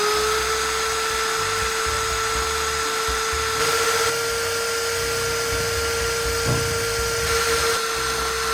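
Power drill with a mixing paddle stirring white PVA glue into gray paint, a steady, loud high-pitched whine with a constant motor tone and churning rumble underneath, running continuously without a break.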